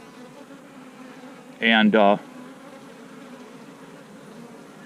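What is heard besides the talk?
honey bees buzzing around a nuc box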